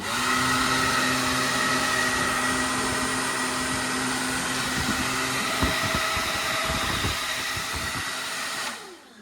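A powerful 4-inch cooling fan for amplifiers blows steadily and loudly with a constant whooshing hum throughout, then cuts off at the very end.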